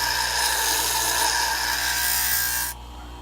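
Valkyrie broadhead held against a spinning grit wheel, giving a steady, close, continuous abrasive grinding hiss that runs for about three seconds, then drops off abruptly near the end.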